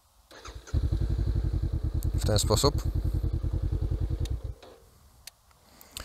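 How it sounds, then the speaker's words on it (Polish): A motorcycle's starter is held down, producing a fast, even cranking pulse for about four seconds before it cuts off, followed by quiet and a brief spoken remark. "możemy odpalić motocykl po prostu, tak jak tutaj, przytrzymując starter i puszczając, kiedy motocykl odpali"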